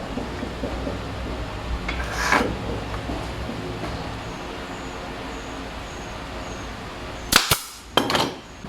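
A nail gun fires into the corner of a glued wooden frame, with a sharp snap early on and then a quick pair of loud pneumatic shots near the end over a steady background rumble.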